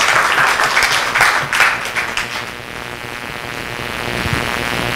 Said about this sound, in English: Can we just give him a round of applause,